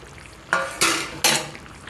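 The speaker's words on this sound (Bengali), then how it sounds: "এবারে মাছগুলো দিয়ে দেবো সব মাছগুলো দিয়ে দিলাম" Fish pieces dropped into a pot of boiling Bengali fish curry with green banana, potato and bitter gourd: three quick splashy sizzling bursts in a row against a steady low bubbling, close and with no talk.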